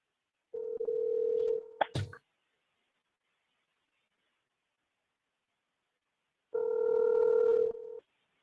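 A Samsung phone placing a call: a steady ringback tone, a few quick dialing clicks and beeps, a long silence, then the ringing tone again, clear and close with no talking.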